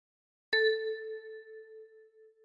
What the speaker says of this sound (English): And with your left thumb, pluck 6.